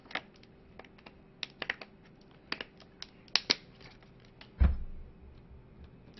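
Scattered keystrokes on a computer keyboard in a quiet room, a handful of close, crisp clicks in irregular bursts followed by one heavier thump near the end.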